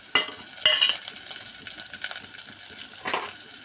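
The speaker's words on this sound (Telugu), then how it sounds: "వేసుకొని మంచిగా వేగనివ్వాలి" Curry leaves with potatoes frying in oil in a pan for khichdi, a close, soft crackling sizzle with a few sharp metallic taps and clinks from a utensil against the pan.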